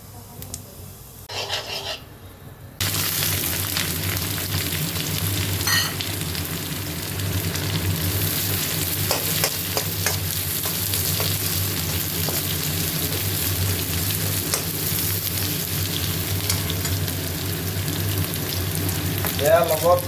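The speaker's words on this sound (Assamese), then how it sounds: "তেল বৰ্তমান ঢালি দিয়া হৈছে তেলৰ পৰিমাণটো এইকাৰণে বেছিকৈ দিছোঁ মানে খুব ভাজিম" Pork with cardamom and spices fries in a generous amount of hot oil in a pan. A soft clatter comes first, then a loud, steady sizzle starts suddenly and crackles on without stopping.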